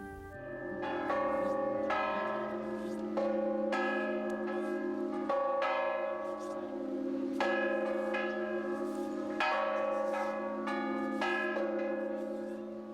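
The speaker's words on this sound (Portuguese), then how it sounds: "ergue-se o campanário com seus 4 sinos" Four bells in the bell tower of the Brasília Cathedral ringing in a repeated pealing sequence, resonant strikes with long overlapping ringing tones, heard at a moderate distance.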